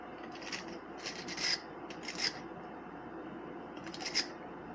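Rust being scrubbed off a Jeep power steering or transmission line: four short bursts of rough, raspy rubbing at close range, separated by brief pauses, over a low steady background hum.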